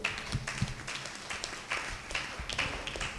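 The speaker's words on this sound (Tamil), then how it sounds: "கைத்தட்டுங்க அப்பாவுக்கு" A church congregation claps along in scattered, uneven bursts, with sharp overlapping hand strikes at moderate volume and no voices standing out.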